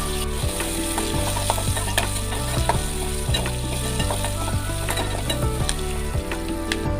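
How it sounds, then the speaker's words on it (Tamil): Onions stirring and frying in a pan for ridge gourd poriyal, a steady loud sizzle with repeated rhythmic scraping of the spatula throughout, no voices. "கூடவே வெங்காயம், சேர்த்து நல்லா கிளறி விட்டுக்கோங்க."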